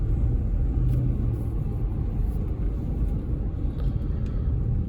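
A 2005 Ford F-150 pickup engine runs as a continuous, loud low rumble with a dense, steady drone throughout and no voices.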